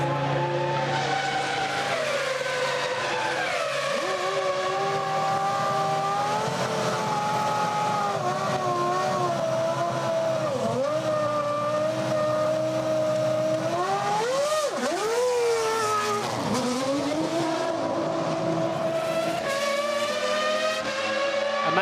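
A 2001 Formula One Ferrari engine at the Italian Grand Prix sustains a loud, high-pitched V10 scream for over twenty seconds, its tone shifting with gear changes and dipping and rising sharply as the car brakes and accelerates. Other race cars blend into the continuous roar.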